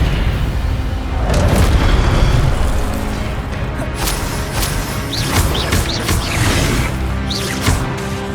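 Spell impacts from Hogwarts Legacy burst one after another, booming hits and crackling fiery blasts layered over a dense, loud game soundtrack, with sharp transients every second or so and no talking.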